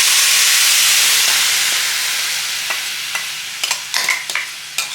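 Masala and curd going into hot majjige (buttermilk) sambar after the gas is switched off: a loud steam hiss that slowly fades, followed by a series of sharp spoon-against-pot stirring knocks.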